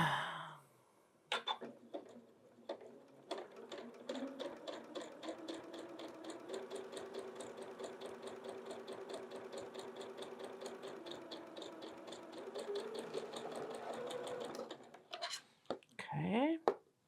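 A sewing machine stitches a quilt block with rapid, rhythmic mechanical pulses running for many seconds at a moderate level, with brief handling noises before and after.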